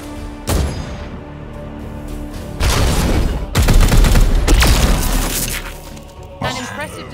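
Warhammer 40,000: Chaos Gate - Daemonhunters gunfire, with a sharp opening shot followed by heavy booming bursts and rapid volleys that swell loudly mid-clip, then a final sharp crack near the end.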